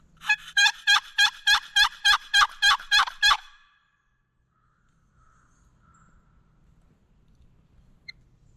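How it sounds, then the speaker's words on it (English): Wild turkey gobbler in a North Carolina swamp-bottom field gobbling, a rapid run of about ten sharp, rattling notes at close-to-mid range, followed by quiet ambient stillness. "They're still gobbling and start gobbling at me."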